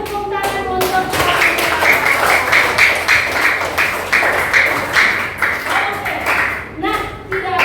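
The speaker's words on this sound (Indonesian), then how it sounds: "Beri tepuk tangan untuk Oke." A classroom of students claps in applause, a dense burst of many hands that swells and continues for several seconds before tapering into scattered claps.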